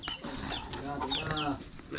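Several chickens cluck and chatter close by, with overlapping squawks and warbling calls over a steady background, and faint voices mixed in.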